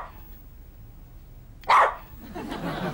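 A dog gives a single loud, sharp bark after a quiet stretch, followed by a lower rumbling noise that could be faint voices.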